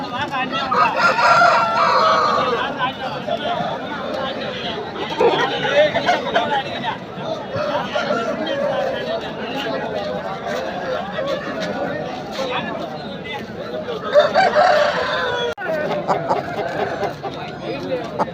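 At a weekly village market, a rooster crows loudly among clucking fowl while a crowd chatters and people talk steadily around it.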